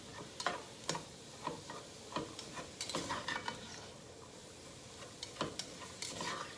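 Garlic cooks in a pan with a soft, steady sizzle while a utensil stirs and taps against the pan in scattered clicks, close and fairly quiet.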